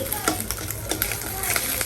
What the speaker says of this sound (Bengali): এখন নুডলসটা রান্না করবো